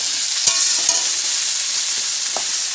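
Potato, eggplant and radish pieces fry together in hot oil, making a loud, continuous sizzle close by, broken by a couple of sharp spatula taps against the pan.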